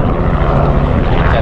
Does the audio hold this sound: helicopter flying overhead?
yes